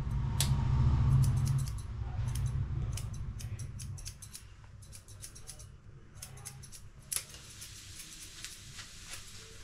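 A Nepali barber's scissors snip hair repeatedly in quick, irregular bursts of sharp metallic clicks, close and fairly faint, with a low rumble fading early on.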